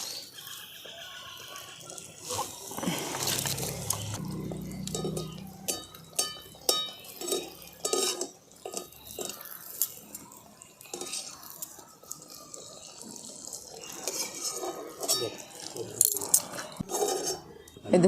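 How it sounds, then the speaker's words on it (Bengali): Jaggery rice-flour pitha fry in hot oil, a steady busy crackle broken by scraping, clinking utensil knocks and splashes as oil is spooned over, with no talk. "এইভাবে আমি সমস্ত পিঠেগুলোকেই ভেজে নিচ্ছি"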